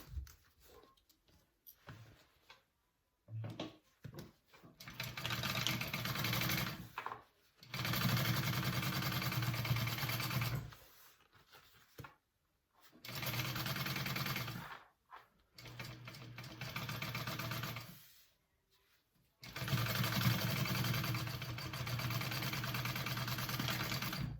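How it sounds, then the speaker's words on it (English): A sewing machine stitches a 3/8 inch seam on a bucket bag in several bursts of fast, even whirring, separated by short silent pauses. "I'm going to sew that on at a 3/8 inch seam allowance."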